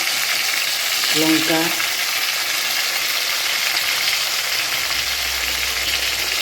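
Pieces of fish fry in hot oil, giving a loud, steady, dense sizzle throughout. A brief voice comes in near the start.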